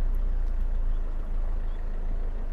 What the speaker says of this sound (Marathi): समोरून ट्रक बस येते, बस पास झाली की मग बाकीच्या गाड्या पुढे निघतील.